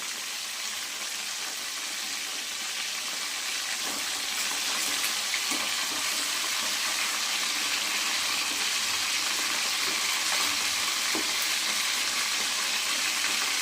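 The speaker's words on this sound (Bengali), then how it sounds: "মাছগুলো আমি ভেজে নিচ্ছি, সবগুলোই মাছ ভেজে নেব" Katla fish pieces for doi katla frying in oil give a continuous hissing sizzle that grows slightly louder midway, with a few faint clicks and no talk.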